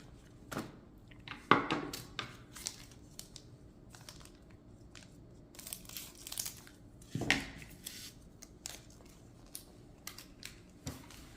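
Plastic packaging on a Pokémon Scarlet & Violet lunch box is opened by hand: scattered crinkles, small taps and a couple of sharper tearing rips, quiet between bursts.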